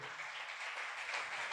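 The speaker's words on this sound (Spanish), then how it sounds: "Dele fuerte el aplauso al Rey" A church congregation applauds, a faint, steady wash of many hands clapping together for a brief moment.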